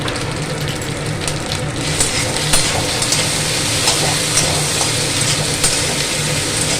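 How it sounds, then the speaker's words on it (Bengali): Ginger-chili paste and fennel paste sizzle and fry in a pan, a steady broadband crackle with small pops and scrapes running continuously at close range, no voices over it. "আদা লঙ্কা বাটা, ভালো করে কষাবো।"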